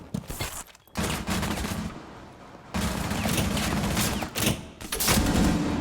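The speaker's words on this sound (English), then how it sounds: "He just tried to wallbang him." Video game gunfire in a shooter, with rapid automatic bursts of shots fired through a wall, loud and sharp, in several sustained volleys separated by brief pauses.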